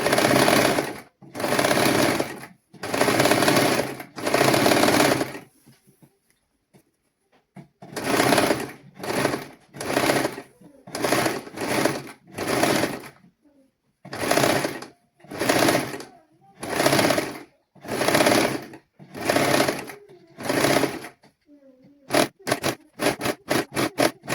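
Sewing machine stitching folded fabric for a child's garment, running in repeated bursts of rapid mechanical whirring separated by short pauses, close and loud, ending in quick short stutters.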